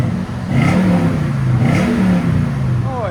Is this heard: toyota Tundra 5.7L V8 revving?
yes